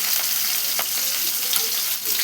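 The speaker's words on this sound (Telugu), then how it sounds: "ఆయిల్ అయితే వేడెక్కింది. జీలకర్ర ఆవాలు అయితే వేసేద్దాము." Cumin and mustard seeds sizzle and crackle in hot oil, a dense, steady frying hiss with scattered pops running loud and close throughout, with no talking.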